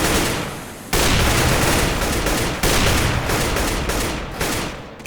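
Counter-Strike: Global Offensive gunfire bursts loudly in rapid continuous volleys, broken by a couple of abrupt restarts, close and dense, with no talk over it.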